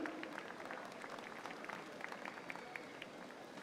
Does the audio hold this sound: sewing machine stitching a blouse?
no